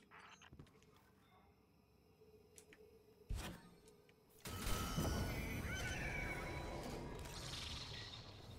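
An in-game horse in Destiny 2 neighs with a loud, shrill whinny that bursts in midway after quieter ticking and thuds, then carries on under dense, noisy game effects.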